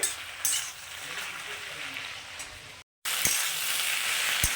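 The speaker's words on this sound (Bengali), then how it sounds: "এখন এটাকে খুব ভালো করে ভেজে নেব একদম তেল বেরোনো পর্যন্ত" A fish head fries with snake gourd in oil, giving a continuous close sizzle with occasional spatula scrapes and clinks, briefly cut off by a moment of silence partway through.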